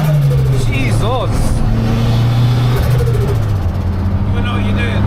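A BMW M140i fitted with a Garrett GT30 turbo blips its engine on a downshift into fifth, a loud in-car drone with a quick rise in revs, while people talk over it.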